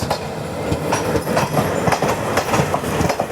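The Chhatrapati Sambhajinagar Guntur Express rolls in, loud clickety-clack of wagon wheels over rail joints in a steady rhythm, close by and continuous with no voices.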